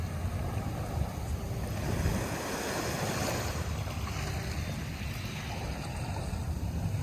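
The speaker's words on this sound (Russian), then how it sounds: "достаточно сильный ветер." Strong wind blows steadily across an open overcast stretch of Key West, a continuous broadband rush with surf-like texture and no voices.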